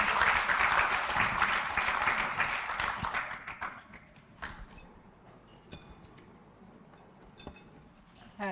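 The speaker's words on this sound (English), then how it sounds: "On remercie et on applaudit les présentateurs de cette session." Applause from a conference audience thanking the session presenters at an annual partners meeting, dense and steady for about four seconds, then thinning to scattered claps and fading.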